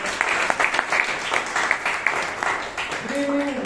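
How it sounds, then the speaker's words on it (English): Applause from an audience at a Bangalore Toastmasters Club meeting, a steady wash of clapping across a room with a voice talking over it near the end. "Give a big round of applause for"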